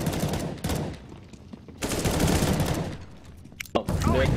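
Automatic and rapid gunfire rattles in bursts during a CS:GO match, loud sustained volleys broken by short pauses, with a voice briefly talking in between.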